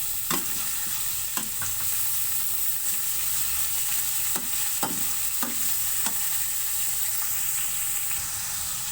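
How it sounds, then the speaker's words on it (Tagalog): Pork sautéing with ginger in a pan for pakbet, a constant hiss of frying with repeated sharp clicks and scrapes of a spatula being stirred, irregular but frequent. "Lalagay ko na po ang pork. Ayan po. Igigisa ko na po siya."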